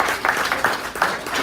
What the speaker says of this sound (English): Let's give Andrew a nice round of applause